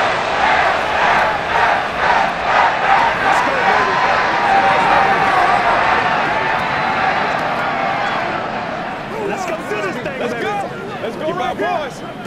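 Dense video-game stadium crowd roar in Madden NFL 24, Saints versus Bears wildcard game, loud and sustained throughout, swelling with rhythmic cheering and chanting bursts near the end.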